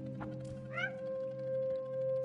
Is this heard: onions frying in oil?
no